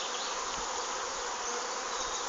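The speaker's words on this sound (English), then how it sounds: "can see the bees in their new home, or rather just outside their new home" A swarm of bees buzzing just outside their new hive in Madingley, a dense, steady high drone of many wings, close and continuous with no voices.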